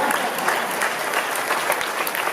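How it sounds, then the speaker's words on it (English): Steady crowd applause from an inauguration ceremony audience in Compton, dense and sustained at even loudness throughout, with faint voices mixed in. "Let's give him a round of applause."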